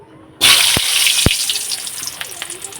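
Potatoes tipped into hot oil in a pan set off a sudden loud hiss and sizzle that stays steady with faint crackles and a couple of clinks.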